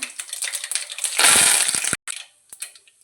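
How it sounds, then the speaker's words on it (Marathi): Cumin and mustard seeds hit hot oil in a pan, giving a loud, bright sizzle and crackle that swells, cuts off abruptly and then leaves faint scattered pops, with no voice. "तेल छान गरम झाल्यानंतर त्याच्यामध्ये मी जिरं मोहरी घालते त्यानंतर कढीपत्ता"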